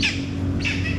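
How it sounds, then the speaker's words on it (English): Parrots squawk in two loud, close, harsh calls, one right at the start and another about halfway through, over a low steady background hum. "these parrots are awesome."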